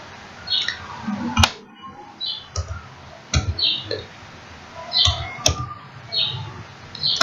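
Fingers tap an Aadhaar number on a computer keyboard, giving close, crisp key clicks in short uneven bursts with brief pauses, plus a few sharper louder presses.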